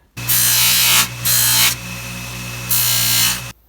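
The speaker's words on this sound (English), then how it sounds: "We have triply here on this stiffer buff, and we're gonna polish it up with that." A ring is polished with compound against a stiff buffing wheel on a motor, a steady close hum broken by bursts of brighter, hissing friction as the piece is pressed in and pulled away several times.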